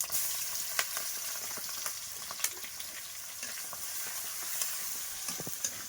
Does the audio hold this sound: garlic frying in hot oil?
yes